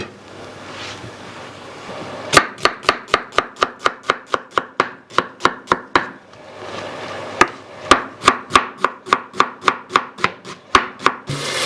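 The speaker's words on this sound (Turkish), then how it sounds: "Etimiz kavrulurken bir tane büyük boy soğanımızı yemeklik doğrayacağız." Rapid knife chops through a large onion on a cutting board, two long runs of sharp, evenly spaced strikes with a short pause between, close and loud.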